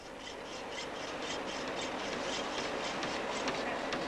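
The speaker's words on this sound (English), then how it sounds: "This student is doing mechanical work on a bar of steel." Hand tool rasping back and forth on a steel bar in a workshop, a continuous, loud scraping with a steady stroke rhythm and no talking.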